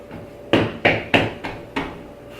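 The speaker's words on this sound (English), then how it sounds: "I'm going to turn this out on the counter and knead it by hand until it comes together as one dough" Chocolate digestive biscuit dough is kneaded by hand on a counter, giving four evenly spaced, dull thumps as the dough is pressed and slapped down, close and loud with quiet gaps between.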